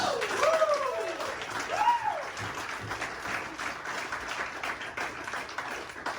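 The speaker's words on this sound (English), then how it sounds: "Give her a round of applause." A comedy club audience at the Zoo Bar breaks into applause during a live stand-up show, warm sustained clapping that stays steady throughout, with a brief voice over the opening.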